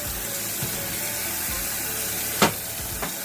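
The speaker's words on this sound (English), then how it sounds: "Easy, guys, easy to wash and rinse with this basket." Running water pours steadily over leaves rinsed in a basket, a continuous close splashing hiss with a few brief knocks and splashes along the way.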